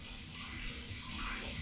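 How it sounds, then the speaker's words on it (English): Water runs steadily from an outdoor shower fed by an off-grid gravity water system, a soft continuous hiss and splash heard up close and faintly, with no voices. "The golden hour shower."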